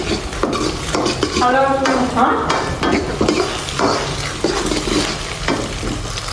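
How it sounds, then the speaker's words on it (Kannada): Two eggs sizzle loudly in a pan for egg rice, with a steady frying crackle and repeated scraping stirs running through the whole stretch, near and continuous. "2 ಮೊಟ್ಟೆ ಗೈಸ್ ಚೆನ್ನಾಗಿ ಫ್ರೈ ಮಾಡ್ಬೇಕು"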